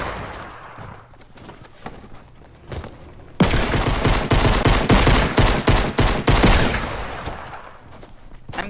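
Fortnite gunfire: faint scattered shots at first, then a loud, dense burst of rapid automatic fire lasting several seconds, close by, with little talk.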